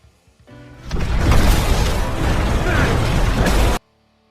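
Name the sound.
grenade exploding in the film Elysium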